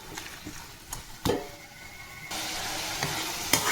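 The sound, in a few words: chicken and liver frying in a pan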